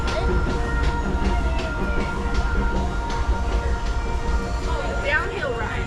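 A Disneyland railroad train rumbles past in a busy theme park, a loud continuous roll with wheel clatter and some high squeals. Crowd talk and voices run underneath.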